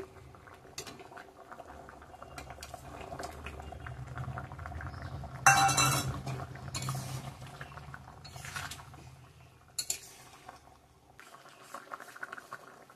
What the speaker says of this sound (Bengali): ঝোলটা একদম ফুটিয়ে নিয়েছি সুন্দর করে